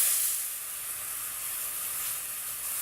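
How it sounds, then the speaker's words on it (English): Leeks sautéing in melted butter in a pan give off a steady, soft hiss that holds at an even level throughout, with no voices over it. "leeks and saute them."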